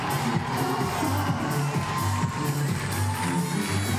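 Crowd cheering at a men's lead final climbing World Cup in Innsbruck, a sustained roar of many voices, fairly loud and continuous, with a low hum underneath and commentators' voices mixed in.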